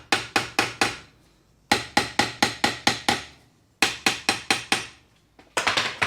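A hammer raps the brake drum on a 1954 Barndoor single cab truck in close, ringing metallic strikes, delivered in quick bursts of five or six blows separated by short pauses.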